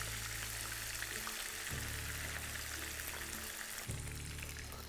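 Paneer cubes deep-frying in hot oil for a spicy Banarasi chutney paneer, giving a steady, close, continuous sizzle and bubbling hiss with no talking throughout.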